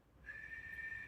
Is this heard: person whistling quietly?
yes